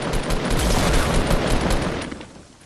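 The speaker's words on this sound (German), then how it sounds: "jetzt schießen sie mit einem Raketenwerfer auf uns" Rapid bursts of weapon fire and booming rocket launcher blasts in Fortnite Battle Royale, loud and dense, fading out toward the end.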